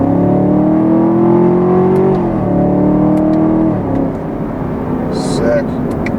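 A 2020 Chevrolet Camaro 2SS with a 10-speed automatic accelerates hard in second gear, its loud engine note climbing steadily, then dipping briefly before pulling on. A voice speaks over the engine.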